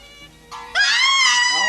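An actress lets out a loud, sustained high-pitched scream during a film scene from a 1977 horror production. It rises sharply after a brief quieter lead-in and holds strong to the end.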